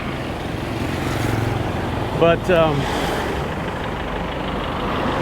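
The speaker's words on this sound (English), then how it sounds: "I'll wait till this traffic gets by me before I try to say too much." Road traffic of trucks and cars rolls past on a street in Chiang Mai, Thailand, a continuous mid-level engine rumble with a brief voice cutting in partway through.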